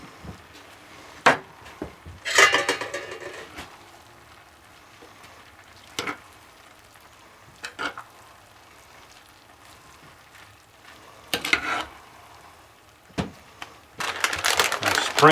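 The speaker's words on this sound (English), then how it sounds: "carefully mix in some cilantro" A spoon stirs fresh cilantro through a skillet of cowboy rice casserole, making intermittent scraping and clattering strokes against the pan, with quiet pauses between them and no talking.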